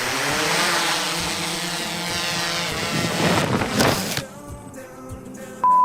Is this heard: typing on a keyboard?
no